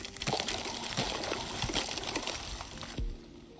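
Water is fetched in the farming game One Lonely Outpost: a close, rushing pour with splashy bursts that cuts off sharply near the end, no voices.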